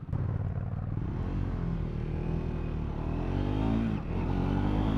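A Triumph Scrambler 400X motorcycle rides off road on a Texas ranch, its engine droning steadily and rising in pitch as it revs and accelerates, with a brief dip and pick-up near the end.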